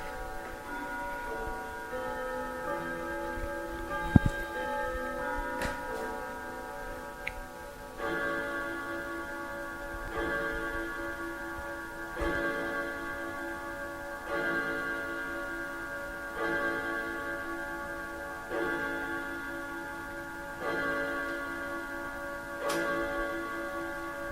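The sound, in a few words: grandfather clock ticking and chiming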